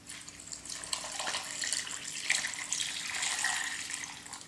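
Boiling water pours steadily into a pot with a splashing, rushing sound, continuous and fairly close, with no voices.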